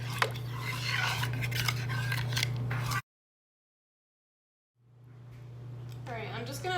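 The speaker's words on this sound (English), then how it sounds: "I'm just gonna stir all this together." Cocoa powder and stevia stirred together in a bowl with a utensil, giving close scraping and clinking strokes over a steady kitchen hum, broken by a short gap of silence before the stirring resumes.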